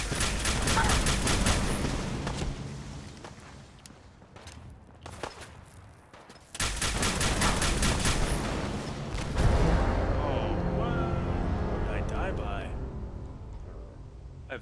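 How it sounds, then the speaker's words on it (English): Video game shooting against an enemy, with rapid automatic gunfire in loud sustained bursts broken by brief pauses, and a voice talking over the action. "Alright, so we're gonna go over here and shoot this guy."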